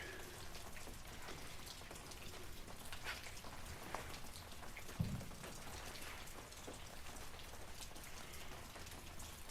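Steady rain falls outdoors in a food forest, a dense continuous patter of drops all around with one brief low knock midway, quiet and with no voices.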